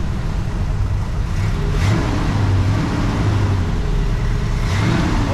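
A 1983 Mercury Capri RS, revived after sitting nine years, idles and creeps forward in first gear, its mid-pitched engine droning steadily and close throughout with slight rises in revs, no talk over it.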